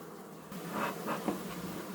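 Honeybees buzzing softly around an open hive while a colony is split into a new hive box, a faint steady hum with a few slightly louder swells as bees pass close.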